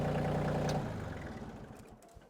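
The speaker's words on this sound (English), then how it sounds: "let me shut the tractor off" A tractor engine runs loudly at first, then winds down and sputters to a stop, leaving faint low rumbles.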